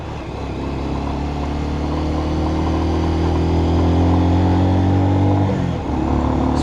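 An air-cooled, carbureted 125cc motorcycle engine with some engine damage and a holed exhaust revs close by, giving a sustained, raspy, beefy drone that briefly dips near the end.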